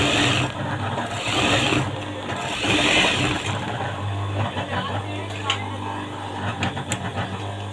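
Sewing machine stitching a tailored double pocket, a steady mechanical whir running with brief pauses and restarts under a faint background voice.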